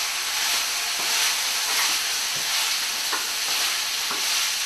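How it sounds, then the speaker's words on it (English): Steady frying sizzle as tofu is stirred into zucchini and tomato spiced with turmeric in a pan, with repeated soft scraping strokes of a utensil over a constant hiss. "And we'll just stir that in a little bit."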